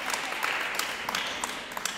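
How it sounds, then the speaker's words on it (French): Children's church audience applauding Pascal, a steady wash of clapping with a few sharper claps standing out, moderately close and continuous throughout. "Applaudite Pascal quand même."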